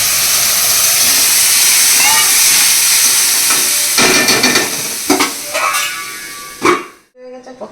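A loud, broad hiss of steam rises as a little water is poured into a pan of hot semolina with coriander leaves on a lowered gas flame. It crackles and bubbles in bursts, then quickly dies away.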